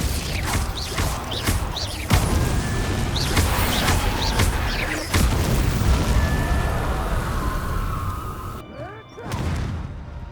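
Spell blasts from Hogwarts Legacy combat, including Confringo fire explosions: a dense run of crashing bursts and rumbling booms over about ten seconds, loud and close, with creaking mechanical noises and a brief quieter gap near the end.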